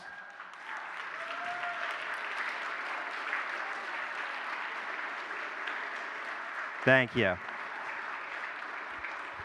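Audience applause fills a school chapel, a steady wash of many hands clapping at moderate level, with a brief spoken thanks near the end.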